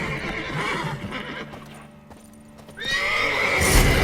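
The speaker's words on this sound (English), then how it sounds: "Call the horses before they wake the guards." Horses in a video game whinny loudly in a high, shrill neigh, with hooves clip-clopping beneath; a quieter stretch midway before a sharp rising neigh returns near the end.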